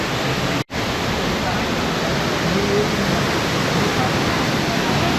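Randha waterfall near Bhandardara sends a dense, continuous roar of rushing water that stays loud and even throughout, broken only by a momentary dropout near the start, with a voice faintly audible beneath the torrent.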